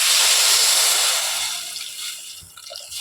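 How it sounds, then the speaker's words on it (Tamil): Water pours into a cooking pot of beetroot as a steady, close hissing splash that slowly thins out and fades over a few seconds. "இப்போ நம்ம இதில் கொஞ்சம் தண்ணி ஊற்றி விட்ருவோம்."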